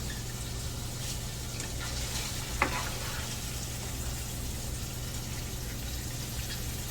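Ground beef browning in a pan for sloppy joes gives a low, steady sizzle with a constant hum underneath and one brief clink partway through, with no talking.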